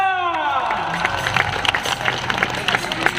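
An audience at a regional arts festival breaks into scattered clapping and cheering, a sustained patter of hands under crowd babble, with a fading shout or whistle at the start.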